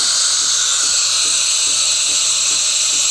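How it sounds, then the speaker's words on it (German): The milk frother on a Gaggia Magenta Milk espresso machine hisses loudly and steadily, a continuous harsh steam roar with a faint rhythmic gurgle underneath. "der Milchschaumbezug sieht gut aus, ist aber relativ laut"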